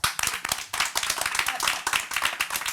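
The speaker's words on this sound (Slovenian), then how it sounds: "Lep aplavz, prosim." Studio audience applause on a comedy show, a steady, dense burst of many hands clapping close and loud throughout, with no talking.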